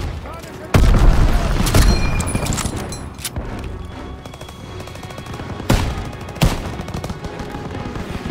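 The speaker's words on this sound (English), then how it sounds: "Lob it a grenade!" Call of Duty WWII battle combat: loud close bursts of gunfire and heavy explosion booms, including a thrown grenade, with shouted voices in the chaotic mix.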